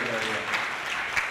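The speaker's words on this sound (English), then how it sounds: "Please a round of applause for them." Audience applause at an African conference on One Health and biosecurity, honoring the host and co-host: a steady, diffuse wash of clapping from a room, moderately loud with a couple of sharper claps standing out.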